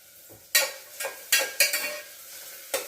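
Food stirred and sautéing in a pan over a gas flame on low heat, with about six sharp scraping stirs over a faint, quiet sizzle, no talking.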